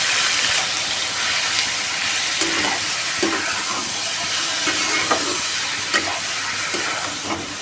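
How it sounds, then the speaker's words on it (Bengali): Garlic frying in a pan for a pointed gourd mash gives a steady, close sizzle and hiss throughout, with occasional soft scrapes and clinks from stirring and no talking. "ভালো করে এটাকে ভেজে নেব রসুনটা একটু লাল লাল হয়ে গেলেই দিয়ে দেব পটল"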